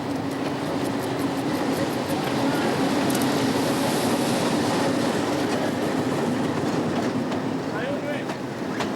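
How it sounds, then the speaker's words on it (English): A train on the line toward Lake Tanganyika in Africa rolls steadily on loud, continuous wheels and rumble, with faint clicks and squeals as it slows toward a station stop. "As soon as the train comes to a halt, activity erupts all around it."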